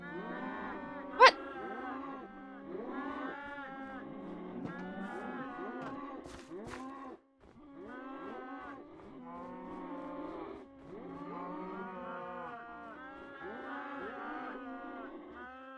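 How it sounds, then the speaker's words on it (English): Several blocky cows in Minecraft moo over and over, a dense overlapping chorus of low bellowing calls with a brief sharp pop early on. "cows trying to run around like crazy things while you're trying to kill them"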